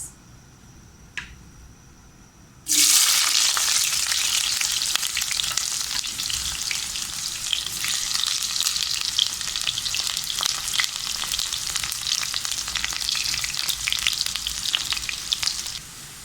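Onion dropped into hot oil with curry leaves bursts into a loud, steady sizzle that continues close and constant after a faint quiet start, with light stirring clicks throughout.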